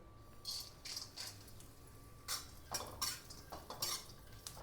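Chopped cashews, almonds and charoli roasting in ghee in a kadhai, stirred with a metal spoon that clinks and scrapes against the pan in several bursts, close and fairly quiet, with no voices.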